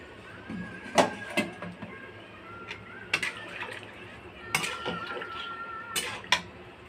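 A spoon stirs a gourd and potato vegetable curry in a pan, making irregular metallic clinks and scrapes against the metal, some sharper than others, over a quiet kitchen background.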